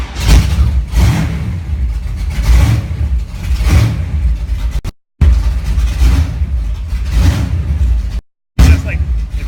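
Chevrolet Camaro engine revving up loudly in repeated surges, close by, with brief cut-offs between pulls.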